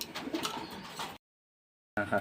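Pigeons coo softly in a loft after feeding, low throaty calls close by, cut off by a short gap of silence before the cooing resumes.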